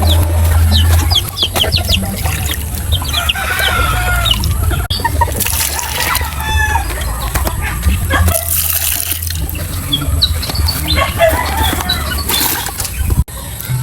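Backyard chickens cluck and chatter close by as they are fed and watered, with splashing water, bursts of wing flapping and occasional sharp knocks over a steady low hum.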